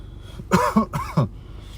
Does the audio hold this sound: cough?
yes